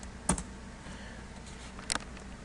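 Two short bursts of typing on a computer keyboard, a quick cluster of clicks near the start and another after a pause, close and quiet against faint room noise.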